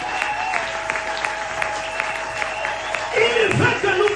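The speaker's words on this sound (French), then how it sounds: "Quelqu'un peut acclamer Jésus." A church congregation applauds and acclaims Jesus, a lively patter of clapping over a sustained musical drone, with voices and cheering swelling louder near the end.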